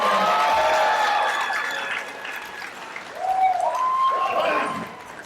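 A wrestling crowd at a CCW Destiny Awaits show in Port St. Lucie, Florida applauds a competitor, with clapping and some cheers rising and falling, and a voice audible over it.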